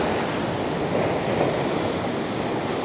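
Rough sea surf at Shankarpur beach roars as a steady, dense wash of breaking waves, loud and continuous throughout with a hint of wind noise and no voices.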